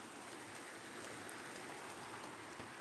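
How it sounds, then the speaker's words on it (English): Heavy pouring rain heard through an open door, a dense continuous hiss of drops on surfaces, steady and fairly soft with no talking. "It's just pouring."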